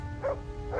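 A dog barks twice in short bursts in the medieval role-playing game Kingdom Come Deliverance, with a steady low ambient hum beneath.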